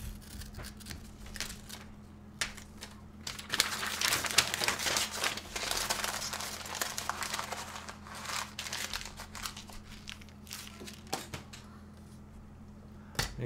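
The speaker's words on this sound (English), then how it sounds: "You gotta really crumple it." Close crinkling and crumpling of something by hand, dense crackling bursts that build toward the middle, then thin out into scattered sharp crackles and pauses, over a faint steady low hum.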